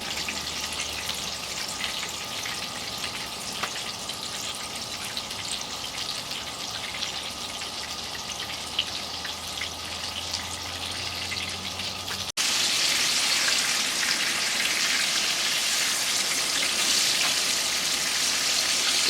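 Fish frying in a pan on a wood stove burning pellets at a winter campsite, a continuous crackling sizzle that jumps louder and brighter partway through, with no talk.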